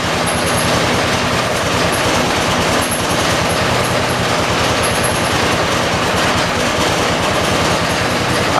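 A John Deere 216 lawn tractor engine runs at half throttle indoors, giving a loud, close, steady rumble with a fast low pulse that holds unchanged from start to finish.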